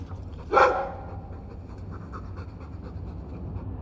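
A Mabari war dog in Dragon Age 2 gives one short sharp canine sound, a brief huff or bark, then pants softly and faintly over a low rumbling ambience.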